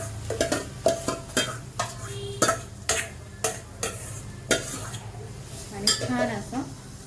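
Mashed pav bhaji vegetables stirred into sizzling masala in a pan, a ladle scraping and knocking against the metal in a steady rhythm of sharp clanks over a continuous frying hiss, close and fairly loud.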